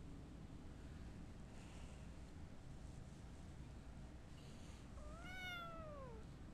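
A playful kitten gives one short, rising-then-falling meow near the end, after several seconds of steady, faint, wind-like background noise.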